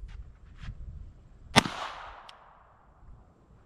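A pistol fires a single CCI .22 snake shot shell outdoors, one sharp, fairly quiet crack followed by a short echo, with faint background noise around it.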